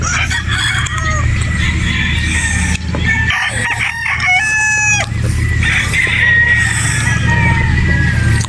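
Loud, close broad stag rooster crowing, several raspy cock-a-doodle calls in succession, with other fowl clucking and crowing in the background at a game farm in Batangas.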